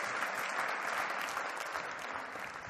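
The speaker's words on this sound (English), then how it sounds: "Give him a round of applause because he's going to join me on stage." Keynote audience applauding a volunteer joining the speaker on stage, a dense burst of many hands clapping, loud and even, fading slightly toward the end.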